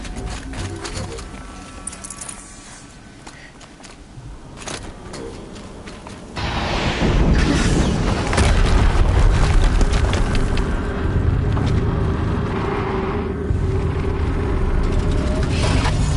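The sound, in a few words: another explosion in the video game Horizon Zero Dawn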